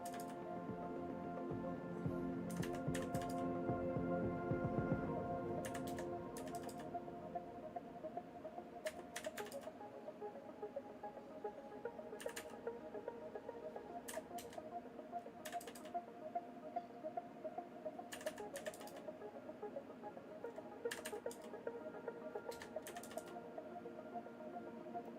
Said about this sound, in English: now I'm going to do all this tippy-tappy typing again.